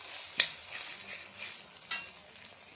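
Carrots sizzle softly in a pan of oil as pasta is being made, with a couple of sharp spatula scrapes and clinks standing out over the quiet, close frying hiss.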